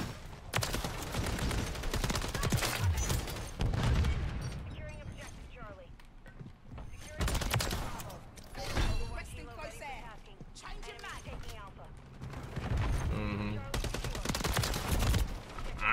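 Gunfire in Modern Warfare 3, with bursts of automatic shots in several loud clusters separated by quieter stretches, mixed with footsteps and mechanical clicks while a player talks over it.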